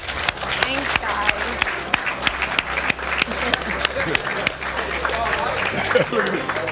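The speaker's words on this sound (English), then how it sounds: "Let's clap it up for me." Applause from a small group on a talk show, brisk clapping with sharp individual claps standing out, mixed with voices and background music underneath.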